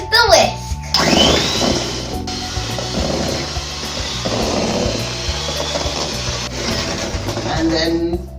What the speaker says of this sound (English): Now we're going to whisk until it's fluffy.